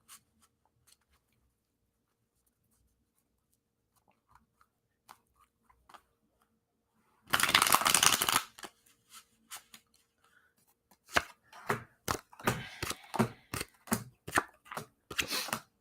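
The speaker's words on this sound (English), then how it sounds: "let's just throw some cards down, see what we got" Tarot-style cards are handled and shuffled close up, a brief dense riffling burst followed by a series of sharp separate snaps and taps as cards are laid down, with quiet gaps between.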